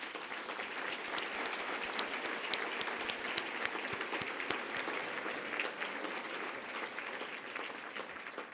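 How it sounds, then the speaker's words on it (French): Sustained applause from a gala audience at a 25th-anniversary celebration in Montreal, a dense, even patter of many hands with a few sharper individual claps poking out, continuing steadily for several seconds. "je pense que ça vaut une belle main d'applaudissements."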